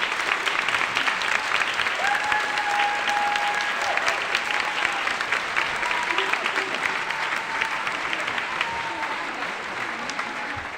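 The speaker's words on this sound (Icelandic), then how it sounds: "Má ég biðja ykkur að klappa fyrir þessu frábæra fólki okkar." An audience at an open rehearsal of the Kársnesskóli school choir in Salurinn, Kópavogur, applauds in a loud, sustained clatter of many hands that fades slightly toward the end.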